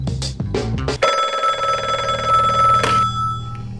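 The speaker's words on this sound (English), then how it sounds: "I get a phone call." An old-style telephone bell rings loudly and continuously for a few seconds, a bright metallic trill that follows a short burst of dramatic music and then fades out.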